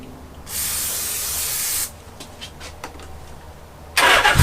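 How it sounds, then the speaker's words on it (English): Two bursts of carb cleaner sprayed near a Suzuki GS850 motorcycle engine, a steady aerosol hiss lasting over a second, then a shorter, louder blast at the end, with light clicks and handling noises between. "a little bit of carb cleaner maybe."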